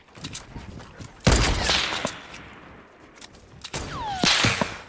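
Gunshots crack out in a Fortnite building match, a sudden loud burst near the start, then scattered sharp reports with whip-like zips and a second flurry toward the end, no voices.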